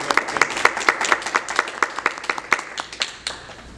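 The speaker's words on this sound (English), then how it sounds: "let's give Alexa Goins a round of applause" Applause from the audience at a county school board monthly meeting, a steady round of clapping with distinct hand claps that fades out near the end, with no talk over it.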